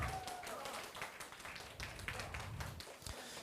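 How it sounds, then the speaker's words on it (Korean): Clapping from a youth worship service congregation in a church hall, a loose, moderately quiet burst of many hands lasting a few seconds with some faint voices underneath. "박수 한번 주세요."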